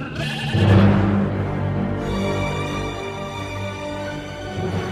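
A sheep bleats in a Chilean radio drama, a loud wavering cry at the start followed by a sustained, dense layered bleat that carries on for several seconds with no talk over it.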